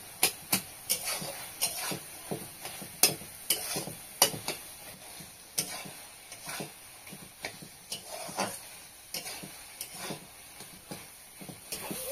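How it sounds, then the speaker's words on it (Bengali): Cooked taro flowers being stirred in a pan, a spoon scraping and knocking at an irregular rhythm over a soft sizzle, close and fairly quiet with no voices. "ফুলগুলো সেদ্ধ হয়ে গেছে, এখন আমি ভালো করে ঘেঁটে দেবো।"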